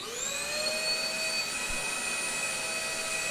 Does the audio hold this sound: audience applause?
no